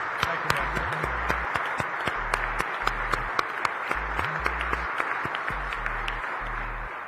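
Steady applause from a ceremony audience honoring a Coast Guard leader, dense clapping with sharp individual claps standing out, sustained for several seconds beneath a low musical tone.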